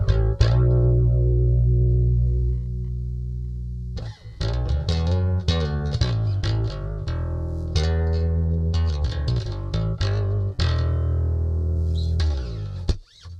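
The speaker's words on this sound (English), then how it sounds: "put the compression on with it just to give it a bit more of a thicker sound" Close, steady electric bass line from a Donner Alpha bass with compression, a thick, even tone, notes sustaining smoothly through a run of short phrases.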